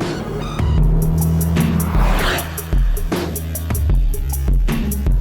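A Honda Civic Type R corners hard on a race track, its engine revving up and down between gear changes with tyres squealing, loud and close.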